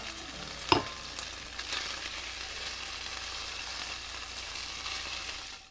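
Egg foo yung frying in oil in a pan, a steady close sizzle that holds throughout after a brief knock or clatter near the start, then cuts off abruptly.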